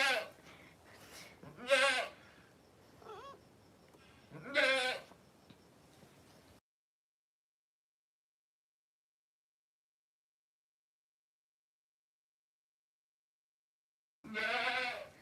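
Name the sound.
baby goats bleating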